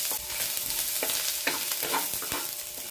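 Onions sautéing in hot oil, a dense hiss of frying punctuated by a handful of sharp scrapes and knocks from stirring, close and steady, no speech over it.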